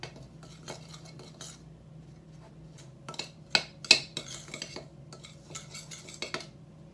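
A utensil scraping and clinking against a bowl while mixing dry scone ingredients with coconut flour and bicarbonate of soda, irregular taps and scrapes, close and quiet, with a few sharper knocks midway.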